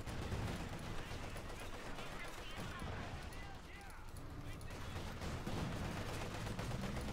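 Rapid bursts of MG42 machine gun fire in the World War II strategy game Company of Heroes 2, dense and continuous, mixed with other battlefield gunfire and explosions and lying faintly under a commentator's voice.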